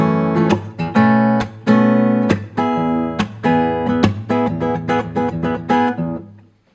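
Guitar playing the transition out of the second chorus of a song: a rhythmic sequence of strummed chords punctuated by sharp slaps and brushes, loud and close, with no voice.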